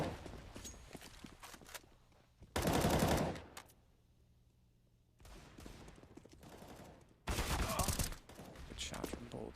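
Gunfire in a Counter-Strike match on Mirage, with two loud dense bursts of automatic fire separated by quieter stretches of footsteps and distant game sounds.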